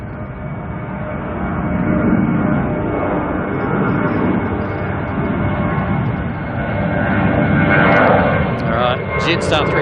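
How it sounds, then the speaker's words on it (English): Jetstar Airbus A320 airliner at Auckland airport, a loud broad jet engine roar swelling and fading as it passes nearby, with someone talking over it. "Jetstar 320 heading to Queenstown"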